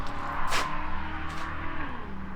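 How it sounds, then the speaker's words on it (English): A car racing past outside, engine rising and falling in pitch as it sweeps by at a distance, steady and moderately loud, heard during work on a Jeep Patriot transmission. "Oh, somebody's racing."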